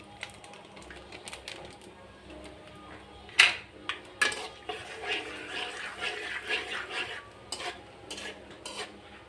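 Whole five-spice seeds and dried red chilies stirred in hot oil: a soft background sizzle broken by a run of clicking, scraping spatula strokes against the pan, close and irregular.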